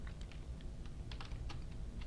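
Fast, irregular clicks of typing on a computer keyboard while entering a CSS comment in a web development tutorial, a steady close patter of keystrokes with a few louder taps and no talk.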